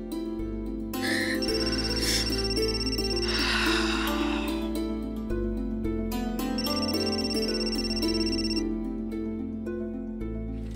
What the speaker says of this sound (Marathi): गरजांचा फोन आहे, पण त्यांना मी आता घाबरणार नाहीये.